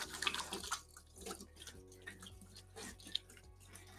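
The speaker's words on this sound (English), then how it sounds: "Let me just wash quickly my hands." Hands are rinsed under a running kitchen tap while cooking, giving soft splashing and dripping water with irregular close trickles and patters at a modest level.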